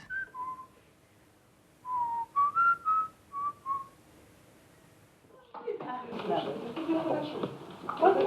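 A man whistles a jazz melody in short, lilting phrases, then the whistling gives way to louder clattering and background noise.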